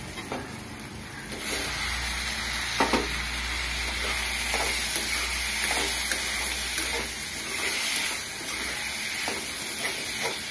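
Onions and tomatoes for tomato rice sauté in a pan, with a constant close sizzle and hiss punctuated by the occasional click and scrape of a spatula stirring.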